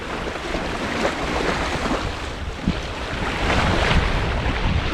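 Wind buffets the microphone while sea waves wash steadily against a sailboat under full sail in a 10–12 knot breeze on a moderate sea during an overnight crossing, a loud continuous rush with no voices.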